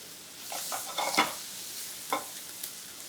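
Thinly sliced garlic frying over high heat in a pan, a soft steady sizzle with a few brief stirring clicks and scrapes, close and fairly quiet, with no voices.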